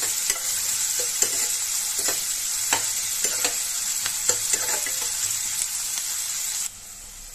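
Chopped onions sauté in hot oil, a bright continuous sizzle broken by steady spatula taps and scrapes on the pan, dropping away near the end.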